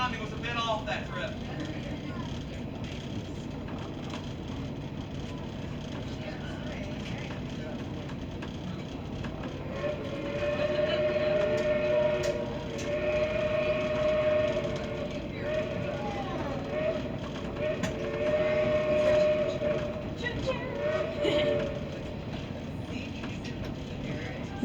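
Steam whistle of the 111-year-old locomotive 4501 on a museum excursion ride, sounding several sustained blasts as the train approaches a tunnel, carried over steady rumble of rolling rail cars with faint talk in the background.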